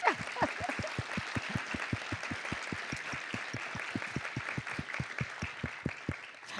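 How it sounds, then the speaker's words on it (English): Applause from the audience at a city council meeting, with steady, rhythmic clapping that carries through for about six seconds at moderate volume. "Let's give Francis another round of applause"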